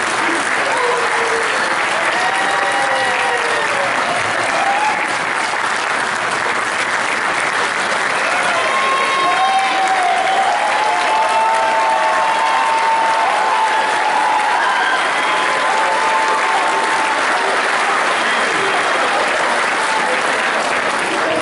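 Standing ovation at a football banquet, sustained dense applause from a large crowd with scattered whoops and cheers, loud and continuous throughout.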